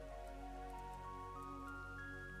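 Steady patter of rain in the game Satisfactory, a soft continuous hiss of drops with sustained musical tones layered over it and no thunder.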